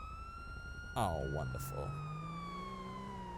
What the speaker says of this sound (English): Again, these have working sirens and everything.